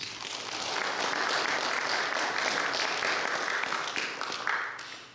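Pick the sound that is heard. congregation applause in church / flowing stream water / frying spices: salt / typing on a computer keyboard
congregation applause in church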